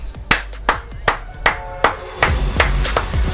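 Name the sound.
hands clapping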